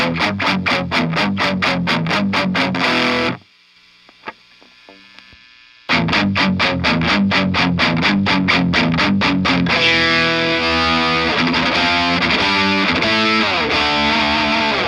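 Distorted electric guitar through a Marshall amp in an old-school thrash tone with room reverb: loud, tight palm-muted chugs, a brief near-silent gap with faint clicks, then chugging again moving into ringing chords.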